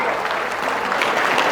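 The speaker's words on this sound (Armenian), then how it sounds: "Ծափեր տվեք թող գան այստեղ հենց" Dense, steady applause from a wedding crowd celebrating the bride and groom, many hands clapping close together without a break for the whole short stretch.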